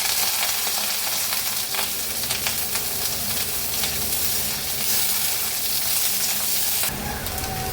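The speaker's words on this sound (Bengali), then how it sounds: "তেল গরম হয়ে গেছে, দিয়ে দিচ্ছি এর মধ্যে ভালো করে চোকলা ছাড়িয়ে ধুয়ে রাখা পটল" Peeled, washed pointed gourd (potol) dropped into hot oil in a heated pan, a loud, steady broadband sizzle and crackle throughout, with a sharper surge of hissing near the end.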